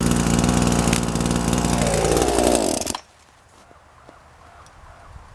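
A Champion chainsaw hot-started after cutting firewood runs loud and close with a harsh buzzing two-stroke roar and a falling pitch sweep, then cuts off abruptly, leaving quiet ambience with faint small knocks.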